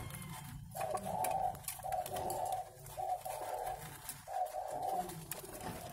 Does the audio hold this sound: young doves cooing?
yes